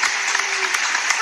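Studio applause, seemingly added as a sound effect, fills the whole brief moment as a steady, dense wash of clapping with no pauses.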